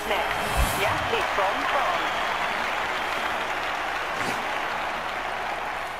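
A crowd in the London 2012 Olympics PC video game gives sustained applause and cheering, with a sharper burst near the start, steady and fairly loud throughout.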